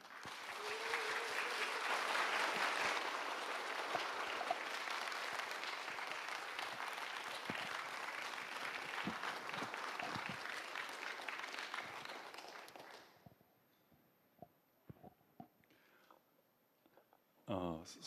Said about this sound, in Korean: 큰 환영의 박수로 맞아주시기 바랍니다